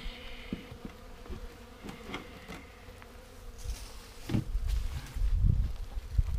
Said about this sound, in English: these bees should have that drawn out, because this is a well-populated hive